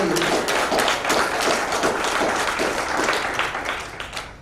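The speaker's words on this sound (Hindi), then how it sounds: "जोरदार तालियों से आनंद राज का सम्मान करता हूँ।" Applause from an audience at an NGO function held in a hotel in Jodhpur, a dense burst of many hands clapping that fades slightly toward the end.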